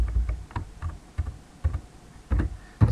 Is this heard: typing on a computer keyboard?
yes